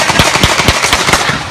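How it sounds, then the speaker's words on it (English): Gunshots ring out during a riot in the smoke-filled streets of Milwaukee, a loud, rapid volley of sharp cracks in quick irregular succession over a constant crowd and street roar. "People panic, running for cover in the smoke-filled streets as the sound of gunshots ring out"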